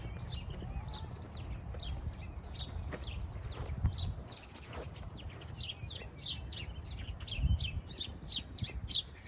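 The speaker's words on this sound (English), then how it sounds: "You can hear the birds." Birds chirping outdoors on a nature walk, many quick high tweets scattered throughout at moderate distance, over low rumbling ambience with a couple of soft thumps.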